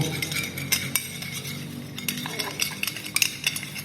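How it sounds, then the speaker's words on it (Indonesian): Eggs beaten in a bowl for shrimp tempura batter: quick clinking, tapping strokes of a utensil against the bowl, irregular and close, with no voice over it. "Telur ini kita kocok dulu."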